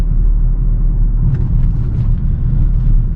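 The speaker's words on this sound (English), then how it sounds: "Let's see what this engine sounds like." Car engine droning steadily at highway speed, a loud continuous low rumble with road noise and no clear rev changes, heard from inside the car on a public road.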